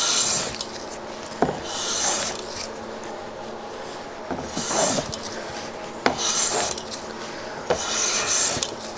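Hand plane shaving a wooden board while thicknessing it, giving repeated raspy scraping strokes roughly every one to two seconds, each a short hiss-like pass, moderately quiet and close, with no talking.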